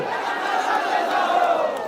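A rally crowd in Jharkhand roars and cheers together in one sustained, loud swell of many voices, with no distinct clapping standing out.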